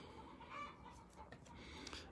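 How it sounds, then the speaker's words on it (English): Backyard chickens cluck in a short, faint burst of irregular calls, heard alone at a distance with no talking over them. "You hear my chickens?"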